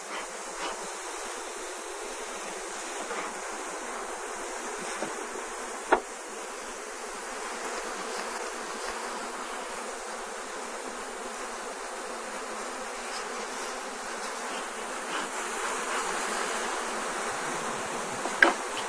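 Dense, steady buzzing of many honeybees close by at an open hive, a continuous drone with a couple of sharp clicks, no voices.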